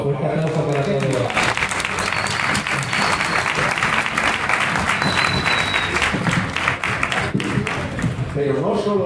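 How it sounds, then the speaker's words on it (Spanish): Studio audience at a motorcycle podcast recording giving enthusiastic applause, dense sustained clapping lasting several seconds, with voices and cheers mixed in. "Fuerte aplauso para todos."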